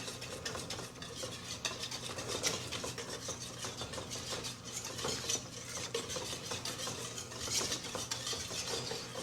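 Eggs whisked by hand in a bowl for a chocolate lava cake batter as they begin to thicken, a steady fast scraping and tapping of wire against the bowl running throughout, fairly close with no talk.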